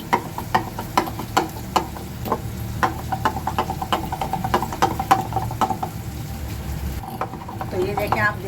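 Eggs being whisked in a bowl for an omelet, a steady rhythmic clicking of the whisk against the bowl repeating about twice a second, close and moderately loud, with faint kitchen noise underneath.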